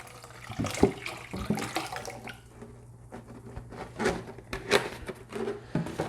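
Water runs and splashes intermittently from a tap rinsing water kefir grains in a bowl, with clattering handling noises and brief gurgles.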